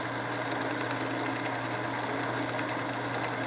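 A wood lathe spins a segmented bowl at a higher speed of about 2,400 RPM. It gives a steady, loud motor hum and whir that runs unbroken throughout, with no talk.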